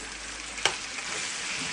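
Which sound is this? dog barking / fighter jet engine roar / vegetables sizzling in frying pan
vegetables sizzling in frying pan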